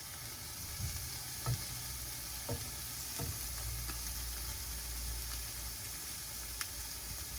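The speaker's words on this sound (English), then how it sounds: "right now you can hear the shrimp sizzling" Shrimp fry for fried rice in a hot pan, making a steady broadband sizzle with a few soft clinks of a spatula as pieces are turned.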